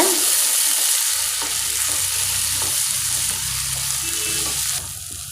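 Tomatoes and onions sauté in a pan for semiya kichadi, a constant close sizzle of frying with soft scraping stirs over it, easing slightly quieter near the end, no voices.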